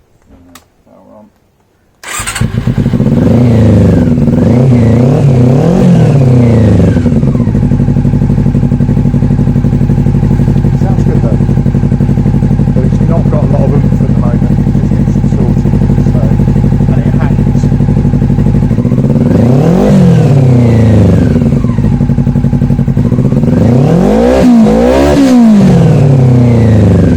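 Honda CB400 Super Four motorcycle engine starting up after a short quiet moment, then running loudly and steadily close by, with rising revs near the end. The carburettors are out of balance, so the engine is losing power.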